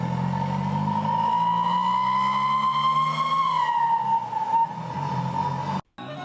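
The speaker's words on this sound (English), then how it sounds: "The only permitted addition is a whistle integrated into the exhaust system." A hand-built African bus's exhaust-mounted whistle screams with a sharp, high-pitched tone as the bus accelerates. The sustained whistle over a low engine rumble rises slightly in pitch, then falls, and cuts out briefly near the end.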